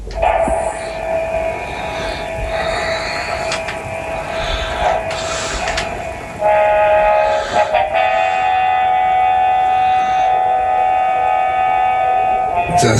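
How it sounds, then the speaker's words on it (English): Titano Charge Morpher toy from Dino Charge playing pirate-like music: a thin, tinny tune through a small speaker, changing midway to a louder, sustained melody, moderately close. "That's some music, which reminds me of kind of pirate music, or like an old-fashioned film."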